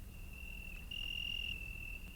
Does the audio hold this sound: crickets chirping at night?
yes